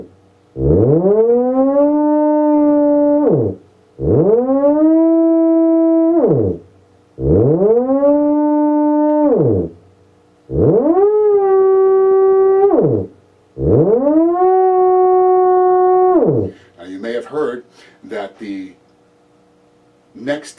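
Five sustained, wavering theremin tones with rich harmonics, each gliding up at the start and down at the end, separated by short pauses, followed by brief scattered noises.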